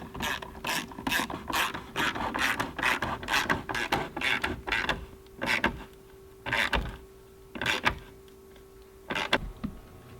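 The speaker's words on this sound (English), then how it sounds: "we'll just use ratchet hand tools for this" Ratchet hand tool clicking as fasteners are tightened on a 2017-2019 Ford F250 Super Duty Morimoto XBG grille, close repeated bursts of ratcheting with short pauses between strokes.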